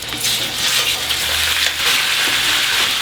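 Pork osso buco browning in hot oil in a pan: a loud, steady, close sizzle that hisses without a break for several seconds.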